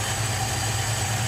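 A 1973 Holden HQ one-tonner's engine idling before warm-up, a steady low rumble with an even, unbroken drone close to the microphone.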